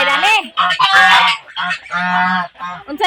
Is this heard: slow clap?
no